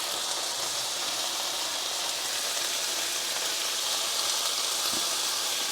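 Diced mango and shallots sizzling over high heat in a pan as they char, a steady, loud hiss of frying with no talk over it.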